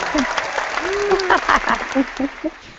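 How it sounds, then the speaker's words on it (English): A short burst of clapping and scattered cheers from a small audience, with a voice speaking briefly over it. "Give her a big round of applause."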